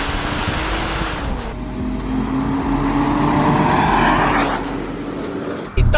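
Engine of a Toyota Crown Athlete estate with a turbocharged 1JZ and light exhaust work revs up, a loud sustained drone that climbs in pitch and holds near 3,500 rpm before dropping off, heard from inside the car.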